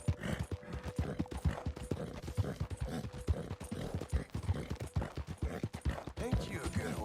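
A horse's hooves clip-clop at a steady walking rhythm in the video game Red Dead Redemption 2, close and clear, with a faint tonal hum in the background.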